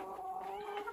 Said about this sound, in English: There's that rooster from the last video.